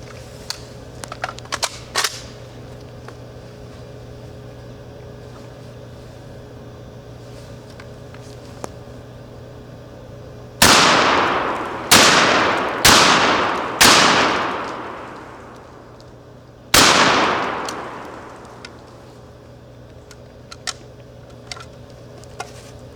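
An N4S 12 semi-auto bullpup shotgun fires outdoors: four loud blasts in quick succession, each ringing out, then a single further shot after a short pause.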